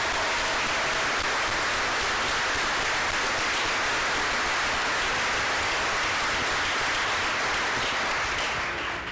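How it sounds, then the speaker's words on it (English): An audience at a school board meeting gives nurses a dense, steady round of applause that holds strong for about nine seconds and barely fades at the end. "So let's give them a round of applause."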